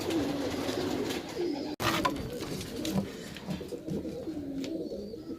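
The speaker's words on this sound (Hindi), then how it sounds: "में गंडेदार कबूतर होंगे, राजस्थानी कबूतर।" Rajasthani pigeons cooing in a loft in Tonk, Rajasthan, a few soft, low coos rising over quiet background rustle and faint patter, with one brief dropout partway through.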